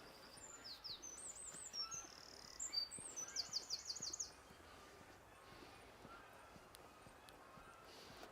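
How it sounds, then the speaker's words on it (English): Birds sing loudly outdoors, a burst of high chirps and trilling calls crowding the first four seconds before fading to a softer outdoor hush with occasional faint chirps. "Can you hear all of the birds?"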